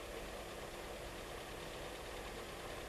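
A small Austin Metro petrol engine idles steadily during a carburettor idle-speed adjustment, giving a faint, continuous, even rumble with no talk over it.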